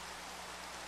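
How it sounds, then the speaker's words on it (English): Steady, dense rain hiss fills a Minecraft-style game world, an even broadband wash with no drops standing out and no voices. "It's raining."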